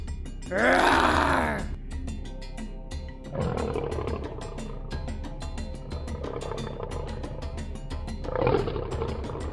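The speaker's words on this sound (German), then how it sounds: "Hast du einen Löwen brüllen hören?" A cartoon lion lets out a loud roar, then a long, low groaning growl, and a second roar rises near the end, all close and without speech.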